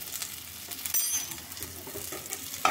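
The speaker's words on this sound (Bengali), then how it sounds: "ভালো করে আবার নেড়ে নিই।" Chilli, coriander and turmeric powders frying in a pan for potato posto, a close hiss and crackle of hot oil with soft scraping as the spices are stirred, one louder scrape near the end.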